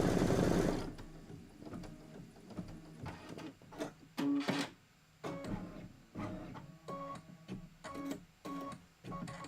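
A sewing machine stitches a quilt block in repeated bursts of rapid mechanical whirring, starting and stopping every second or so, close and clear with no voices.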